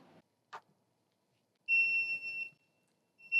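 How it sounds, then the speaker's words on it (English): Exerfly motorized flywheel trainer emitting electronic countdown beeps: two sustained high-pitched tones, clear and close, starting partway through after near silence and a brief click. "the beeping is going to give Joey a countdown until the wind-up function engages"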